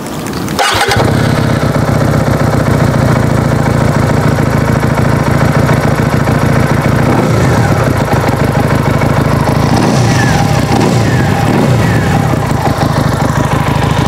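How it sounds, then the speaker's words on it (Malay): Benda Napoleonbob 250 bobber motorcycle with a V-twin engine and left and right exhausts starts up, then idles and revs close by, a loud continuous rumble with occasional throttle blips. "Jom abang share dekat korang bunyi enjin V-twin guys."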